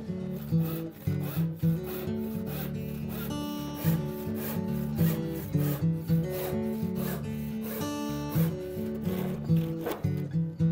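A hand saw cuts through plywood in steady, rhythmic rasping strokes, close and continuous, with background music playing throughout.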